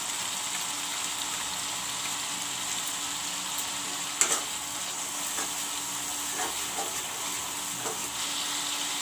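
Turmeric, chili and jeera powders fry in a pan with a steady, close sizzle and crackle, a soft stir or clink standing out briefly partway through, no voices over it.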